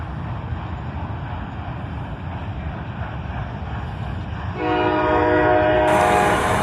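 A CSX freight train hauling many gondolas rolls past with steady rumbling and clatter, then a loud horn blast cuts in near the end over the rolling noise.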